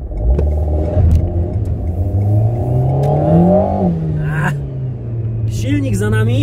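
An Alpine A110 Pure sports car, warmed up, with its engine mounted behind the driver and rear-wheel drive, accelerates with a steady rising rumble that climbs in pitch and then settles. It stays loud and close throughout, with someone speaking over it.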